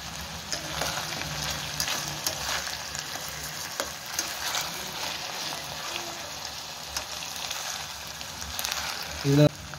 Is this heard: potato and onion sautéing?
yes